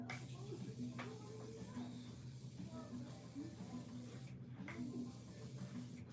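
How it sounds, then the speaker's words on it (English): Morphe Continuous Setting Spray mists onto a face in a few soft, airy hisses, faint and close against a quiet room background. "So we're going to get the Morphe Continuous Setting Spray."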